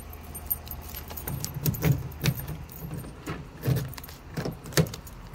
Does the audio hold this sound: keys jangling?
yes